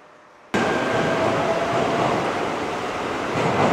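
A snow-covered train at a snowy Gunma/Niigata station gives a steady, close rumble that starts abruptly and carries on without a break, with no voices.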